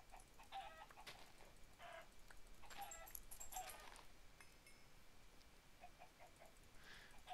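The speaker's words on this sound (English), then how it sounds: "Oh, heaps of chickens here." A flock of chickens clucking in the Minecraft video game, with several short, scattered clucks and squawks coming in bursts at low volume and no talking over them.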